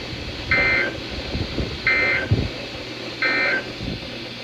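Emergency Alert System test tones on radio, three evenly spaced beeping bursts over a hissy broadcast background, loud and alone with no speech.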